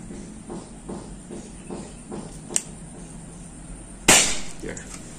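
A Predator bullpup air rifle with a 40 cm seamless barrel and dural shroud fires a slug: a faint mechanical click, then one loud, sharp near crack with a short hissing tail, over quiet background noise.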